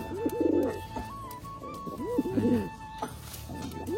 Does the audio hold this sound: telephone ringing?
no